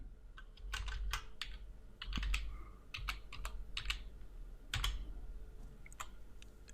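Someone types on a computer keyboard close by, a quick irregular run of crisp key clicks in small bursts with short pauses between.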